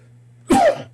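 A single short, sharp cough bursts out close to the mic over a steady low electrical hum, then quickly fades.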